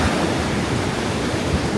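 Ocean surf washing in around bare feet on a Long Beach Island beach, a steady broadband wash of water and wind noise filling the whole moment with no talk.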